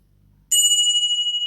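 A single bright bell ding strikes sharply and rings on with a steady shimmering tone, loud and alone after a brief low murmur.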